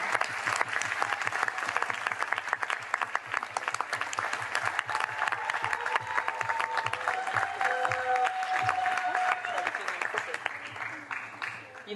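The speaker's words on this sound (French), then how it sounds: "je vous demande d'applaudir très," An audience at a Madagascar slam poetry event applauds slam poet Mathias with steady, continuous clapping at moderate distance, plus a few whistles and cheers. It thins slightly near the end.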